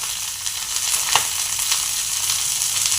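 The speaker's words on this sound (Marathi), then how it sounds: "छान असं आपण हे स्वीट कॉर्न भाजून घेणार आहोत।" Sweet corn with turmeric sizzles in a pan, giving a steady, close, hissing fry with a brief scrape of stirring partway through and no talk.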